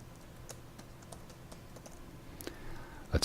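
Rapid keystrokes clatter on a computer keyboard while a guest's name is entered into a property owners' dwelling website demo, steady close taps with a couple of louder presses at the end.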